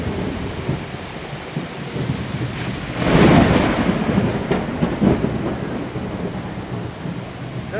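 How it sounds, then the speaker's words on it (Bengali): Heavy rain pours steadily during a thunderstorm at Mobarakpur Colony, Tehatta, Nadia, with a loud thunder rumble breaking in around the middle and rolling off over the constant downpour. "যেরকম বৃষ্টি সেরকম বজ্র পড়তেছে।"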